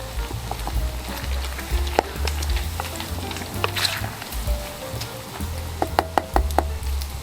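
Beef fat rendering down into golden tallow sizzles and crackles steadily in a pan as the solid bits crisp. Occasional sharper pops and knocks stand out near the end, with no talking.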